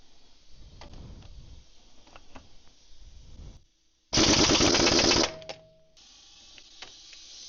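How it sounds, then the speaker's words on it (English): A pneumatic impact wrench, an air gun run through socket adapters stepping from 1-inch down to 3/4-inch drive, fires one loud, harsh burst of about a second between quieter clanks and handling noises. "it kind of takes away at the power of the air gun"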